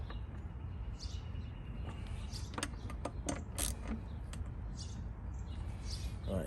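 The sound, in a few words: bolts being torqued down with a ratchet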